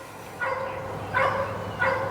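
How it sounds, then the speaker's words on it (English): A dog barks loudly at a campsite in Martin Creek State Park, three separate sharp bark bursts about once every 0.6 seconds, close by and clear over a quiet background. "that dog is loud. It's been doing that all night long"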